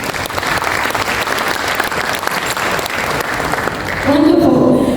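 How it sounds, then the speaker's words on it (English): A summit audience gives a steady round of applause for a panel, dense continuous clapping filling the room, with a voice briefly heard near the end. "And let's give our panel a round of applause just right before we start."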